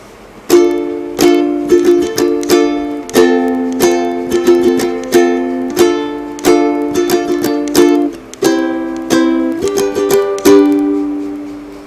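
A ukulele plucks a bright, steady melody in single notes, played alone and clearly in a repeating rhythmic pattern.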